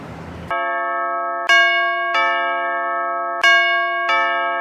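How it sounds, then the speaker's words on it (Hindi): A doorbell chimes again and again, each strike a clear ringing bell tone that rings out and sustains until the next, several presses in a row with no talking over it. "ऊपर से इतना घंटी पे घंटी बजाया जा रहा है।"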